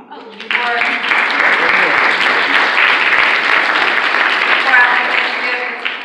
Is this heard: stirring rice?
no